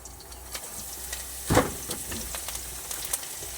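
Mustard seeds popping in hot oil with other ingredients sizzling in a home kitchen, a soft steady fry with one sharp louder crackle near the middle.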